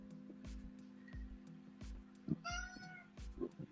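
A cat meows a couple of times, close by, over a quiet room with faint clicks and thumps.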